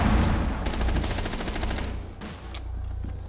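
Rapid automatic gunfire from a player's gun in Rainbow Six Siege, a loud continuous burst of closely spaced shots with a brief pause and a few final rounds.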